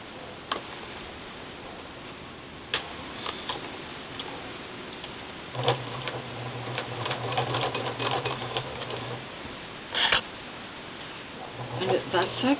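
A sewing machine zigzag-stitches fabric and trim in short bursts, a steady mechanical whir running for several seconds and again briefly near the end, among scattered ticks and handling clicks.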